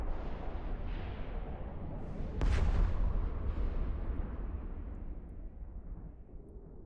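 Heavy weapon fire from a ship strikes gun placements in the space game EVE Online: a sharp blast near the middle over a dense, rumbling barrage that fades slowly, with no talking.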